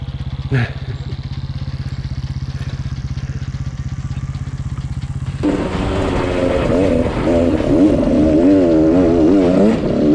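An adventure motorcycle stuck off-road on a rural dirt trail, its engine idling steadily before bursting into loud, sustained revving with rising and falling pitch as the rear wheel strains, close to the microphone.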